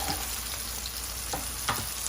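Marinated prawns fry in hot oil with a steady close hiss and occasional pops and spatula scrapes over about two seconds.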